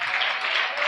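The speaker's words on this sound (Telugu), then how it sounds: "అందరూ బిగ్గరగా చప్పట్లు కొడుతూ గట్టిగా అల్లి చెప్పండి" A church congregation clapping loudly during a sermon, a brief burst of dense, steady handclaps, close and continuous with no break.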